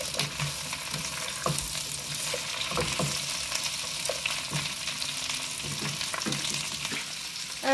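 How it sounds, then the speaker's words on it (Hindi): Okra frying in hot oil, a steady close crackling sizzle throughout with scattered scrapes and clicks of a spoon stirring the pan. "अब हम इनको फ्राई करेंगे और इसके अंदर ज़्यादा चम्मच से हिलाएंगे"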